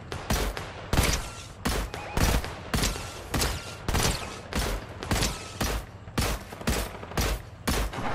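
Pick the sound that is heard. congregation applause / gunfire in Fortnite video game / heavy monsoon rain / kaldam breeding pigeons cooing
gunfire in Fortnite video game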